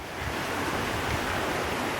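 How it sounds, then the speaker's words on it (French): A flooded river at Luzinay Serpaize rushes past in a steady, dense roar of water with no pauses, loud and close. "cette rivière qui avait dépassé le pont ce matin."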